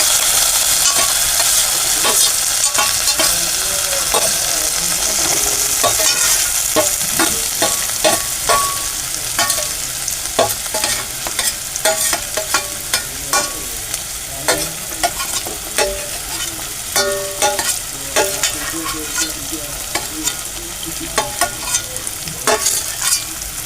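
Chopped onion and green chillies frying with garlic paste in a pan, a loud continuous sizzle broken by frequent rhythmic scraping and clinking as a spoon stirs them.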